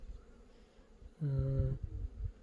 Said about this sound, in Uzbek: arilar